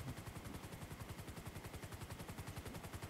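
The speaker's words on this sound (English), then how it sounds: "Shots fired." Rapid, evenly spaced gunshots in GTA, a steady rhythmic burst of automatic fire sounding somewhat distant and uniform throughout, with no talking.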